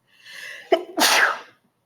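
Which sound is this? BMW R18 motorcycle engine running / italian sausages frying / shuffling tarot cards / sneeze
sneeze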